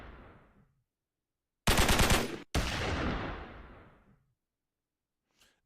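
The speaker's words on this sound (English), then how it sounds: "I got them lasers, they sound like this." Harsh synthetic zaps blast out in two long bursts with a brief cut between them, then decay away, followed by a short burst at the end.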